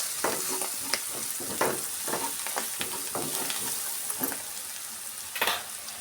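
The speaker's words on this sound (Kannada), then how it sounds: "ಒಂದು ಅರ್ಧ ಟೀ ಸ್ಪೂನಷ್ಟು ಗರಂ ಮಸಾಲ, ಸ್ವಲ್ಪ ಅರಿಶಿನ ಎಲ್ಲ ಸೇರಿಸಿ ಚೆನ್ನಾಗಿ ಫ್ರೈ ಮಾಡಿಕೊಳ್ಳೋಣ." Spices with garam masala and turmeric fry for egg rice, a steady close sizzle with a spoon scraping and stirring in uneven strokes, no talk.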